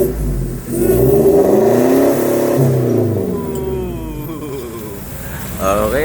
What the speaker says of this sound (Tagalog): RF wheels, HKS exhaust for Montero.